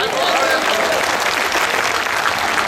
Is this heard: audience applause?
yes